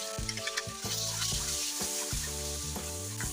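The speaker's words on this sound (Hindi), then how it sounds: "टमाटर का सॉफ्ट होने तक हम इसे कुक करेंगे अच्छी तरह।" Chopped tomato sizzling in a pan for chicken yakhni pulao gives a soft, continuous hiss over steady tonal background music, with a few light clicks near the start.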